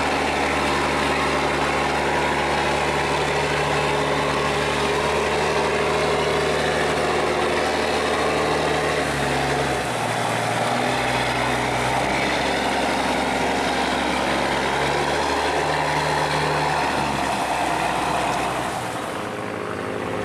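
An old, heavily loaded boat engine on a river near a dam gate drones steadily and loudly throughout, a low rumbling hum that dips briefly near the middle and at the end.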